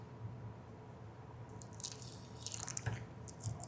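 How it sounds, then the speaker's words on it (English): A splash of lime juice is poured into a dish beside plain breadcrumbs, heard as a quiet run of soft, wet drips and small splatters, with a faint background hum. "I'm going to put in a splash of lime juice."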